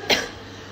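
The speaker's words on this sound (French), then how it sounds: "que je fais toujours que tousser." A single short, sharp cough close to the microphone, followed by quiet room tone.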